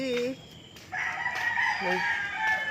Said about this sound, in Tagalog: Magpapakain kami ni Missy ng chicken.